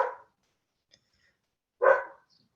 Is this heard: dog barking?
yes